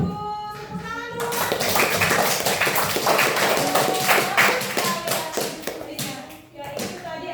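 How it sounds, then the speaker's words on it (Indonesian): A primary school class claps hands together after a pupil's answer, a dense burst of clapping that starts about a second in and continues briskly to the end, with a teacher's voice heard briefly at the start. "Tepuk tangan dulu."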